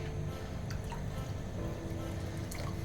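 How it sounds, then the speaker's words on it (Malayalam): Steady water pouring and dripping into a pot of cooking rice, continuous and close, with a soft wet bubbling texture throughout. "ഒരു ശക്കല വെള്ളം കൂടെ ഒഴിച്ചു കൊടുക്കാം"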